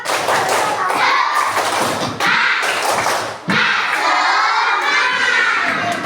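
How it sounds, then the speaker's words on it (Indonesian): Schoolchildren in a classroom perform a rhythmic clapping chant, loud and close, with shouting voices and thumping claps mixed together in a lively, energetic burst. "Yuk, tepuk semangat."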